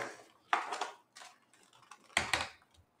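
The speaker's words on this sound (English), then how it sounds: "I'm just going to go ahead and close the lid" A Lenovo Ideapad 110-15ISK laptop lid is shut with a pair of close, sharp plastic clicks and clatters, a brief tap first and then a louder double snap near the end, with no talking.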